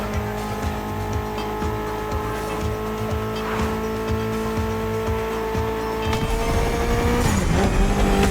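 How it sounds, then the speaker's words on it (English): A Mitsubishi inline-four engine rated around 280 horsepower drones steadily in The Crew Motorfest gymkhana racing, with rhythmic revving and tire squeal, then a rising, swooping engine note near the end. "Mitsubishi gave us a nice inline four-cylinder with already 280 horsepower"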